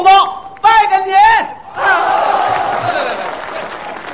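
A live crosstalk comedy audience breaks into a sustained wash of applause right after a performer's loud exclamation, the clapping filling the hall evenly and fading slightly toward the end.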